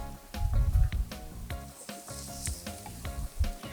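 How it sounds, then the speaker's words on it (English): Chicken pieces sizzle on a hot charcoal grill, a close crackling fry layered with clanks and scraping of tools, with some music-like tones in the background. "Now the sizzle is what you want to hear."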